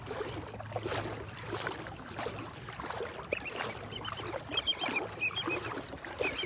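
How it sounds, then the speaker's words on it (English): Faint, repeated high-pitched willet screeches come in bursts in the distance, over gentle water sloshing and outdoor background noise on a beach. "If you heard that screeching in the background, that is the sound of a willet bird."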